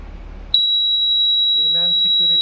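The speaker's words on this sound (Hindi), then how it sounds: "He-Man security alarm" A HI-MAN motion-triggered security alarm buzzer starts abruptly and holds one loud, steady, piercing electronic tone, with someone talking underneath toward the end.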